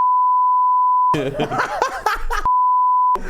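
A steady high-pitched censor beep sounds, gives way to a short burst of speech with laughter, then returns twice.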